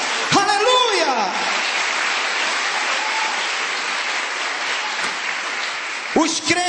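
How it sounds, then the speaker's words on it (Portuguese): A church congregation bursts into sustained applause during a Sunday service, a dense, steady wash of clapping that fills the room, with a preacher's voice calling out at the start and again at the end. "dê um aplauso poderoso a esse Deus."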